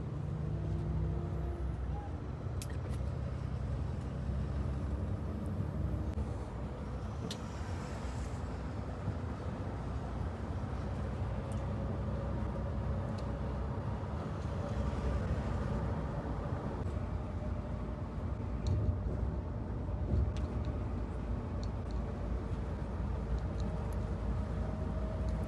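Steady low road rumble inside a Madesh Travel Volvo 9600SLX bus on the Hyderabad to Bangalore route as it overtakes a Kaveri Travels 9600 bus, with faint passing vehicle noise and hiss throughout.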